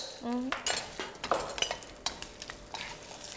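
Spices stir in a pan with a sizzle of frying and a few clinks of a spoon against metal. A short tonal sound comes near the start.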